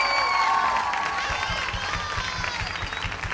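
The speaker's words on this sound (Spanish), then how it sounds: "¡Aplauso para el grupo de staff!" A large teen audience at a youth congress claps and cheers for the staff team, a dense, rhythmic roar of applause that stays loud throughout, with voices mixed into the crowd noise.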